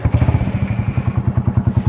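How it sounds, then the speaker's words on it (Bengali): A modified motorcycle idles while standing still, its exhaust putting out a loud, deep, rapidly pulsing bass thump at close range, with no voices heard. "আমার বাইকটা দাঁড়ানো অবস্থায় বেসটা আপনাদেরকে শোনাই।"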